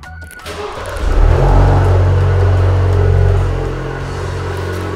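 A Maserati in sport mode surges forward, its engine swelling from a low rumble into a loud, deep acceleration roar that holds for a couple of seconds and then eases to a steady cruising drone.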